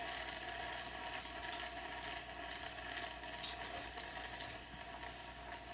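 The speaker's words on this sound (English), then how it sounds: "And they're boiling over pretty good" A steady bubbling, sizzling hiss of jars of green beans boiling over in a canner, fairly quiet and constant throughout, with no voices.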